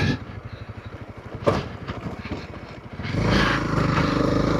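A motorcycle rides a track toward a mountain mining cabin just north of the Mexico border, its engine putting along close by with a pulsing rhythm before the sound rises to a louder, steadier roar near the end.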